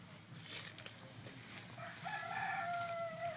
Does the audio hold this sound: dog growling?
no